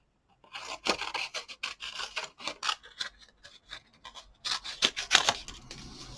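Scissors snip repeatedly through stamped cardstock pieces at a craft table, a close run of crisp rasping cuts in uneven rhythm, louder near the end, with no talk.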